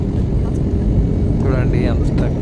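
Steady, loud low roar of an airplane cabin in flight above the Andaman Islands, a continuous engine and air drone filling the whole stretch, with a faint voice briefly rising over it near the end.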